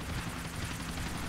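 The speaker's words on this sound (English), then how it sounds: "My chopper's going out of control, I don't know why." A helicopter in the video game GTA IV: continuous, loud rotor and engine noise with a fast pulsing thrum, heard alone for a moment.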